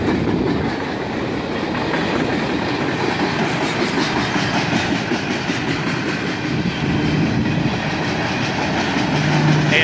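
Long freight train rolling past on the Toledo Sub, a cut of empty steel slab cars clattering by with steady rumbling wheels and rhythmic clickety-clack, loud and close throughout.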